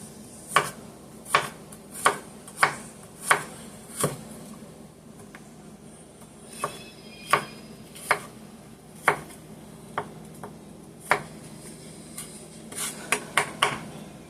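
A knife chops three garlic cloves on a cutting board, giving a series of sharp, close taps in uneven bursts with short pauses between them, while a faint background hum runs underneath.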